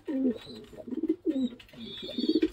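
Racing pigeons, a male beside a newly paired female, coo loudly and close in repeated rolling phrases, three or four bursts in quick succession with no talk over them.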